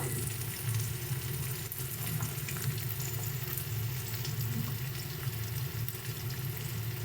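Onions fried golden brown with green chili paste and ginger paste sizzle steadily in a pan, a dense, even frying hiss that carries on alone with no talk.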